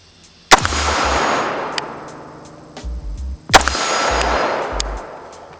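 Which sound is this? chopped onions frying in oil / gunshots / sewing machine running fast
gunshots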